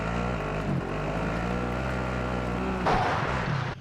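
Engine of a quad bike in a video game, a steady loud motor drone with a rougher surge of revving near the end.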